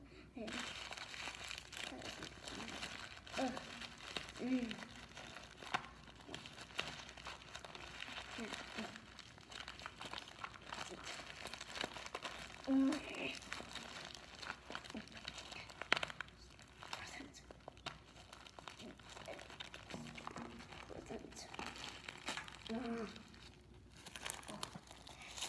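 Gift wrapping paper crinkles and rustles as a present is unwrapped, soft continuous crumpling with occasional tearing under quiet voices talking nearby.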